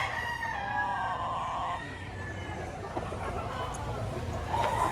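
Rooster crowing at a busy chicken market in Batangas, a drawn-out crow rising over a steady crowd murmur and nearby chatter, with another bird calling faintly toward the end.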